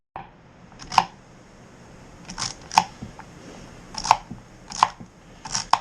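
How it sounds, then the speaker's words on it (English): Onions being chopped on a board for a big batch of beef chili, giving a handful of sharp, irregular knife taps spaced apart, close and fairly faint, with no talking. "So I'll get started cutting onions and whatnot."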